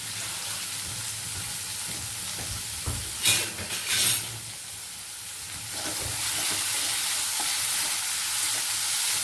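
Onions and tomatoes with salt sizzle in a pan for veg biryani, a steady close hiss throughout with a brief louder scrape of stirring partway and the sizzle swelling slightly near the end.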